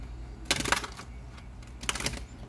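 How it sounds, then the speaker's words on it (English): Two quick bursts of crisp tarot card riffling, close and brief, separated by a short quiet pause. "I am being mindful of my shuffles."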